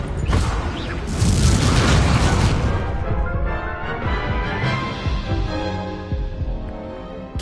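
In Hogwarts Legacy, an Incendio fire spell goes off as a loud booming whoosh and crackling blaze that surges early, then rumbles and fades slowly over several seconds.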